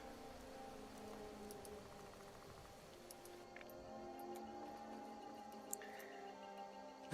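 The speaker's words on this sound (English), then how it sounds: "Put a hood on, girl. It's raining." Rain falls in a video game world, a soft continuous patter with occasional drips over a faint musical backdrop, quiet and even throughout with no talking.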